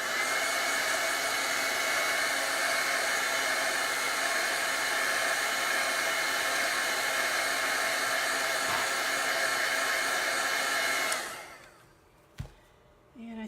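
A hair dryer blows steadily on chalk paste for about eleven seconds, a loud even whoosh that then cuts off, leaving quiet with a small knock.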